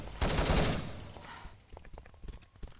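Gunfire crackles through a clan match of a competitive shooter game, with a dense burst of automatic shots at first, then scattered sharper single reports and faint footsteps trailing off.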